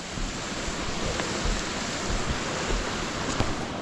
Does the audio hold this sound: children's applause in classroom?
no